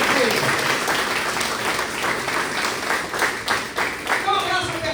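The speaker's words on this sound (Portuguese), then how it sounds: "Você pode aplaudir bem forte para a glória de Deus" A church congregation at a Baptist anniversary service applauds loudly and steadily, a dense wash of many hands clapping together throughout, with faint voices mixed underneath.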